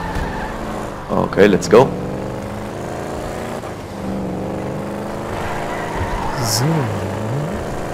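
A car engine in GTA 5 drives on steadily, rising and falling as it shifts and revs, while people talk over it with short remarks.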